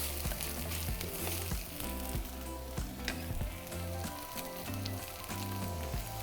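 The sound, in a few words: homemade green chorizo sizzling in pan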